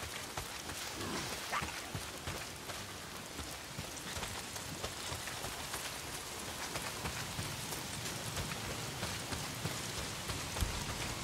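Steady rain falls in the video game Days Gone, a dense, even hiss of drops pattering on surfaces that runs unbroken and fairly close throughout, with no voices.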